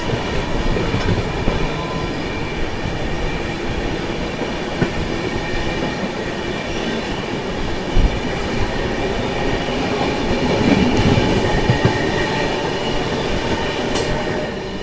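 The Valsad–Haridwar Superfast Express runs at speed and crosses another train, a loud, continuous rumble of wheels on rails with rhythmic clatter and occasional squeals, heard close from on board without talk.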